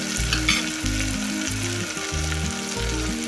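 Cowpea curry ingredients sizzle steadily in hot oil while being stirred, a continuous near frying hiss with no talking.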